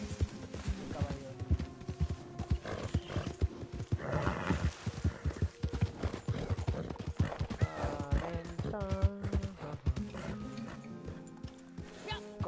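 Horse hooves clip-clopping steadily in Red Dead Redemption II, a rapid continuous gallop with a few whinnies and clattering game sounds over it.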